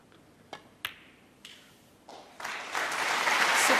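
Audience applause at a Masters snooker match begins with a few isolated claps and swells into steady, full clapping from the arena crowd, rising in loudness toward the end.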